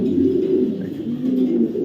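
A male racing pigeon of a BRPEL club line coos steadily at close range, a low rolling hum that swells and dips without pause, with no talk.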